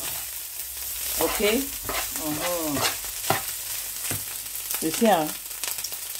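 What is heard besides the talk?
fried rice frying in a pan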